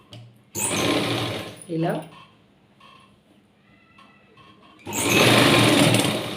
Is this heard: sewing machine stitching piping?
yes